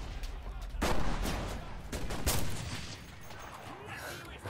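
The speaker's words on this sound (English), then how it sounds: "There's also shotguns going on down there." Battle in the World War II shooter Enlisted, Battle for Berlin, with shotguns and rifles firing: a sharp nearby shot, then steady overlapping gunfire and distant blasts, and a player talking over it.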